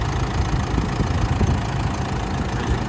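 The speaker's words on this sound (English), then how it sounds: "As you can hear, I do have the car running." A Nissan Navara engine idles steadily with the bonnet open, a close, even low rumble throughout with no talk.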